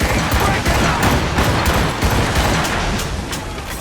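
A volley of musket fire rings out on command in an eighteenth-century naval battle in Assassin's Creed, set in the Seven Years' War, as a dense, loud, continuous crackle of overlapping shots and booms.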